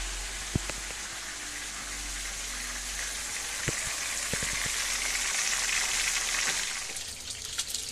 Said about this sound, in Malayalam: അപ്പോൾ നമ്മൾ മീൻ ഫ്രൈ ചെയ്യാൻ പോകും